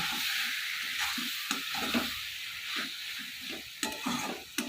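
Bombay duck fish sizzles in a pan of spices being cooked down with turmeric, giving a quiet steady hiss with intermittent stirring clinks and scrapes, close and unaccompanied by talk.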